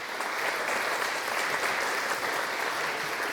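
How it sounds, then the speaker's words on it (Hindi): Loud, steady applause from an audience welcoming a man onto the stage, dense clapping filling the whole stretch without letting up. "जोरदार तालियां अतुल जी के लिए"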